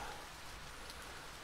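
Faint, steady rain falling in the video game To The Moon, a soft continuous hiss with no other sounds.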